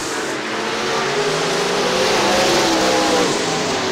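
Super late model race cars roar around the Crystal Motor Speedway oval in Crystal, Michigan, a loud, continuous blend of several engines droning and revving steadily with no talk over it.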